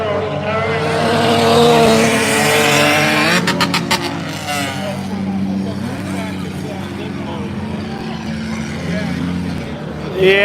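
Dirt track race car engines roaring loudly at speed, one car running at a noticeably different pitch in limp mode, with engine drone continuing throughout and people talking over it.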